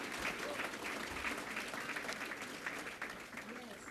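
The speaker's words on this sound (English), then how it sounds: "So please give Dr. Ron Daniels a round of applause for all that he is and all that he does." Audience applause at a gentrification summit conference for Dr. Ron Daniels, a continuous, fairly quiet and distant wash of clapping from a room full of people.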